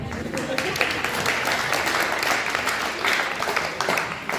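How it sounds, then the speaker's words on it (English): A room of guests at a community cancer support group chili dinner applauds, a continuous patter of many hands clapping at moderate volume, with voices and cheers mixed into it. "I appreciate the applause."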